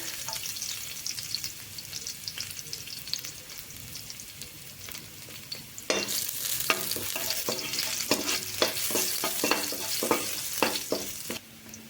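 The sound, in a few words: garlic cloves frying in hot oil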